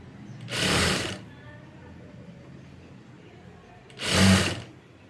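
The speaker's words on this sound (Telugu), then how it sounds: "ఇలా క్లోజ్ చేసుకుని నీట్గా స్టిచ్ చేసుకుంటూ వెళ్ళిపోవాలి." A sewing machine stitches self piping onto a blouse in two short, fast whirring runs a few seconds apart, with only a faint background hum between them.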